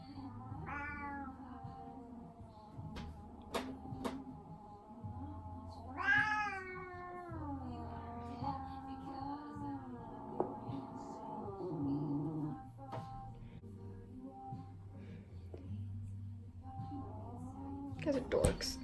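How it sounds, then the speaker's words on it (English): Cats fight indoors, trading several rising, drawn-out yowls and meows with growly caterwauling in between, fairly close but not loud, while a person talks over them. "kitties, why are you fighting?"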